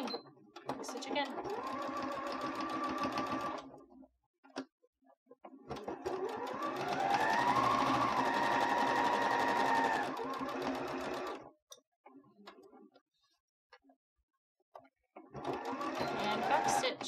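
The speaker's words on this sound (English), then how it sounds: "Lift your needle and jump forward a few inches. And then you can keep sewing." A sewing machine stitches a fabric face mask in steady whirring runs of a few seconds each. The runs are broken by short pauses, and one longer stretch rises and falls in speed. The machine is close, and a voice speaks between the runs.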